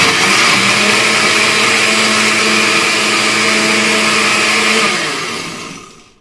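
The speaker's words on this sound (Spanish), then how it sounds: "entonces voy a volver a encender mi licuadora." A blender whirs loudly at a steady pitch for several seconds, blending ice-cream pop mixture, then winds down and fades as the motor stops.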